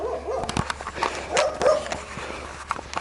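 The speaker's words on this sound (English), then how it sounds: "There's that dog looks amazingly like Tank" A dog makes short yips, whimpers and barks amid shuffling footsteps, with scattered nearby sounds and no clear speech.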